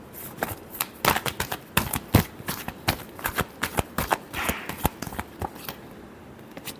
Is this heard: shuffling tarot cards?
yes